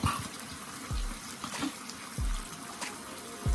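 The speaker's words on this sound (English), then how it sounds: "Add like 2 cups boiling water." Boiling water pours in short bursts, a few separate splashing gushes into a pot, fairly quiet with background noise between them.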